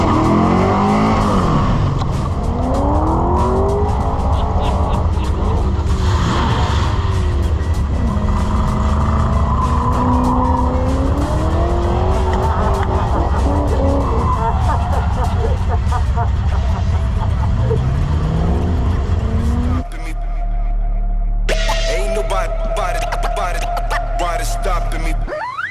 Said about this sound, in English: How often do you get to see iconic Bathurst machines such as GTHOs and VL Walkinshaw Group A's being taken out and driven in anger?